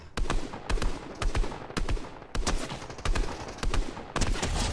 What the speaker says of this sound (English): I'm getting shot at too